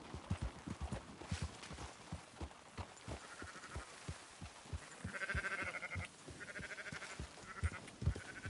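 Sheep bleat in Red Dead Redemption 2 while being rounded up to the yards, several bleats layered over steady clip-clopping hooves from horses in the game.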